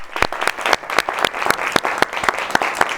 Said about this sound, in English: Let's clap for those folks.